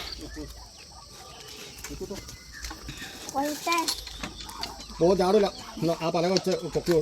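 Hens kept with ducks at a home in Kerala cluck and chatter near and far through a busy morning yard, with people talking over them for much of the time.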